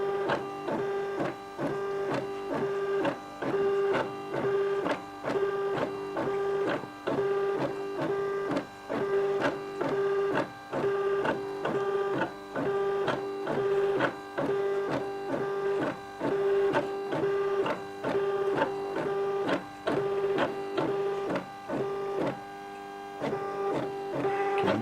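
Silhouette Portrait cutter at work, a steady electronic whir with a high tone and frequent stepping ticks and brief pauses, continuing for about 25 seconds with no voices.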